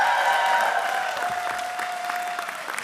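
Audience at a 2023 convocation ceremony in Fort St. John applauding the graduating class, a broad wash of clapping and cheering that starts loud and tapers slightly, with a faint voice running underneath.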